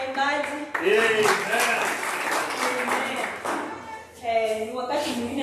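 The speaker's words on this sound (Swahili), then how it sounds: "Makofi mazuri kwa waimbaji." Many hands clap together in a church congregation applauding the singers at a Sunday service, the dense clapping running under strong voices that rise and fall throughout.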